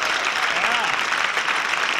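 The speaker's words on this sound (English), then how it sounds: "Give him a round of applause." A comedy club crowd claps steadily for a stand-up comedian, dense applause holding at an even level throughout.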